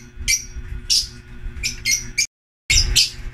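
Young fledgling birds chirping in a breeding setting, a steady run of bright, high squeaky calls in several bursts, close and clear with a short silent gap before a final burst.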